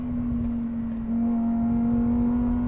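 A supercharged Lamborghini Huracan STO accelerates on an open road, its engine holding a steady, loud drone that climbs slightly in pitch and swells in level partway through, with no voices over it.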